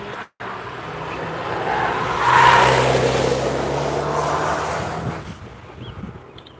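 Vehicles pass on a road with tourists driving, a broad engine and tire roar that swells around the middle and holds steady before fading, with a low hum beneath and no voices.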